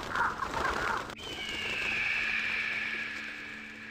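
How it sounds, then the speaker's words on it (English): Crows summoned by a bird power in the video game Vampire: The Masquerade – Bloodlines attack, giving harsh cawing and a fluttering, screechy rush that rises into a sustained shrill swarm. "I could have done without tormenting him with birds."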